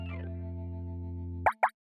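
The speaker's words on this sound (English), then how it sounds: "It's a monster cleaning its feet." Cartoon sound effect for a monster cleaning its feet: a steady low buzzing tone, then two quick, punchy plops close together at the end.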